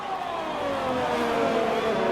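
A Ferrari race car in a racing video game, set on an Italian circuit, gives a steady, fairly quiet engine whine whose pitch climbs slowly as it accelerates, with no talking.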